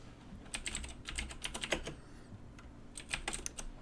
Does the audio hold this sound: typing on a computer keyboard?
yes